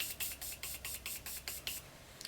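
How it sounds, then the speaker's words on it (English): Morphe setting spray misted onto a makeup brush in a run of about ten short, rhythmic hissing pumps, close and fairly quiet, with no talking. "I'm going to take my Morphe setting spray and just wet my brush."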